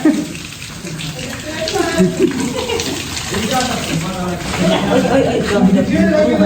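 Water being poured in a rushing, splashing stream, close and continuous, with people talking and chuckling over it.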